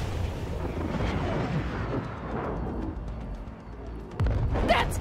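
A missile blast explosion in Cyberpunk 2077 rumbles loud and broad, rolling on as a sustained roar of debris and wind before a sharper burst near the end; no one speaks.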